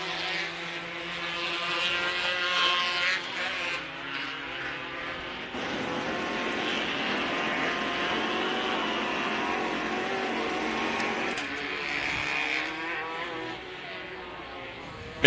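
Modified racing karts on the Glen Helen Raceway short course, a steady close buzz of small high-revving engines that overlap and swell as several pass together, then fade slightly toward the end.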